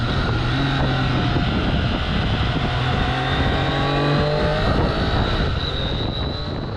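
A Triumph Daytona 765 Moto2 sport motorcycle engine roars steadily while riding, pitch rising and falling through gear changes, with loud wind rush throughout.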